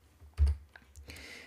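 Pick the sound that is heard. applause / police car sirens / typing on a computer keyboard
typing on a computer keyboard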